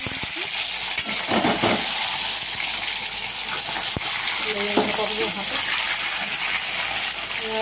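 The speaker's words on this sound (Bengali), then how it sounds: "পনিরটা হালকা করে ভেজে নেব।" Paneer pieces frying lightly in hot oil make a dense, steady, nearby sizzle, with scattered clicks and light stirring sounds throughout.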